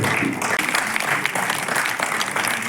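An audience at a Savitha Maharshi Jayanti function in Chikkaballapur claps together in sustained, dense applause that fills the room for a few seconds.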